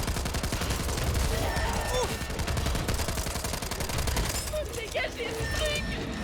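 Rapid gunfire in the video game Back 4 Blood, dense bursts of shots and machine-gun fire running continuously and loud, with voices talking over the action.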